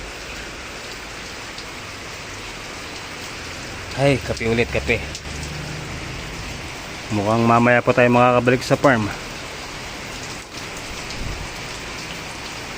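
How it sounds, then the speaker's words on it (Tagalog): Steady rain falls and patters on surfaces at a small farm, a constant close hiss throughout, with two bursts of people talking over it partway through. "So yan mga master, umuulan na po."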